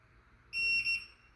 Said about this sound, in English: you can kind of hear how loud that beep is compared to my remote